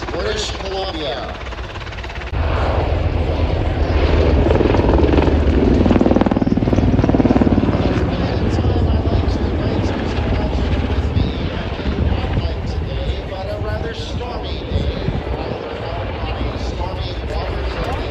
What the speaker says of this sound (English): the CH-149 Cormorant helicopter